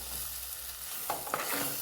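A spoon stirs turmeric powder into sautéed small onions and tomatoes frying in a pan for a Kerala fish curry, with a soft sizzle and a couple of distinct scraping strokes near the end.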